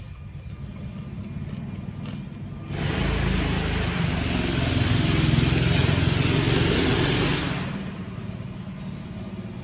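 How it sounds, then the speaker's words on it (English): A neighbor's go-kart engine with no muffler, far off, rises to a loud, raw, rattling drone for several seconds and then fades back down to a quieter hum. "Neighbor on a go-kart with no muffler"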